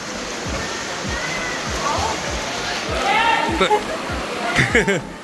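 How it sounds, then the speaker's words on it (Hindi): Water gushes steadily out from inside the mountain at Robbers Cave during the monsoon, a loud continuous rushing wash close by, with a voice talking over it. "ये देखो इस तरीके से पानी निकलता रहता है पहाड़ों के अंदर से।"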